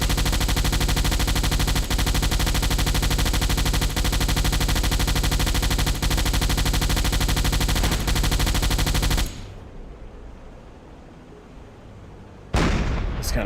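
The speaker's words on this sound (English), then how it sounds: "It's kind of fun letting them have it with this twin 20 millimeters." Twin 20 mm anti-aircraft guns on a WWII submarine deck in a naval video game hammer out a dense, unbroken stream of rapid shots for about nine seconds, stop, then a final burst cuts back in near the end.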